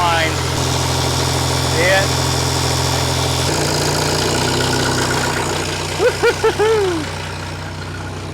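An abandoned excavator's diesel engine idles with a steady low rumble and hum, its note dropping partway through, while someone talks over it close by; fuel spews from the return line.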